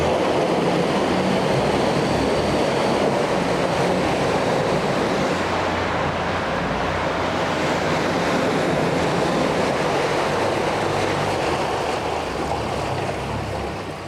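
A 2003 Mercury 40hp four-stroke Big Foot EFI outboard motor runs steadily and fairly loud at a dock, its even drone mixed with water wash and no talk.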